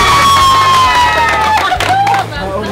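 A live audience cheers and shouts steadily through a round of a stage competition. The noise is loud and continuous, with some voices rising above the crowd.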